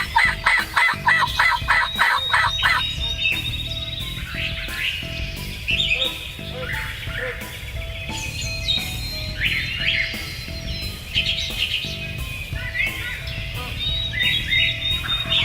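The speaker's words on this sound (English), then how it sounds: "the birds are starting to wake up, and suddenly this gobbler sounds off in the tree" Outdoor dawn chorus of birds, with a wild turkey gobbler's rapid rolling gobble from its roost tree near the start and more calls repeating throughout over a steady background.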